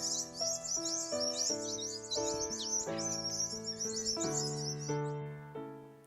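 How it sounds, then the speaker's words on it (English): Mob of galahs calling in parkland, a dense overlapping chorus of high, scratchy screeches and chirps, fairly close and continuous, with no voices. "I come across a mob of galahs who are very calmly eating together"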